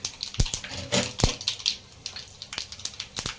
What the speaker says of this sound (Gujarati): તેલ આવી ગયું છે હવે આપણે રાઈ નાખીશું એક મોટી ચમચી